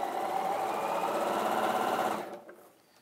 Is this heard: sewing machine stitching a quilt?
yes